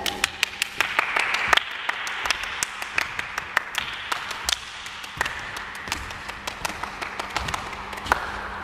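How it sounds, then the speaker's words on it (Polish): A group claps hands during a children's action song routine, a run of sharp irregular claps and taps over a faint steady hum, fairly quiet with no talk. "i klaszczemy."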